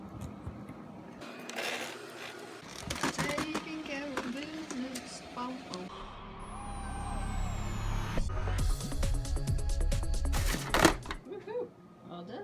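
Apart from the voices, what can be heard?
vacuum cleaner running in a basement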